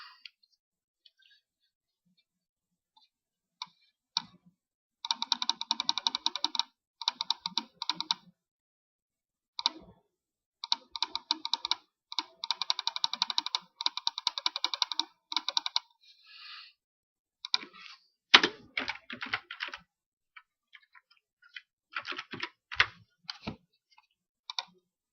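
Typing on a computer keyboard in bursts of rapid, close key clicks separated by pauses, with a few louder single taps, heard alone without talk.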